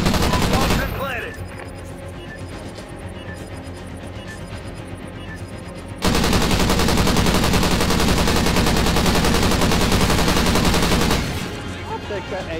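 Rapid automatic gunfire from a first-person shooter match fills the scene in long, loud sustained bursts, intensifying sharply midway, with players talking over it.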